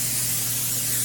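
An aerosol can of vegetable cooking spray hisses in one steady, close, continuous burst over pumpkin seeds spread out on a tray for roasting.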